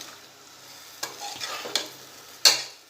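Surti papdi beans with dried garlic are stirred in a pan, giving three faint, brief scraping strokes over a quiet, low sizzle.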